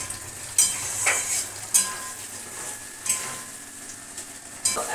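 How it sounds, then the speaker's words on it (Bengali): Potatoes and green peas stir-fried with spices in a wok, with a utensil scraping the pan in regular strokes about once a second over a steady, close background sizzle. "আর এখানে আলু ভেজে এবার মশলা দিয়ে কড়াইশুঁটি দিয়ে এই যে কষাচ্ছি।"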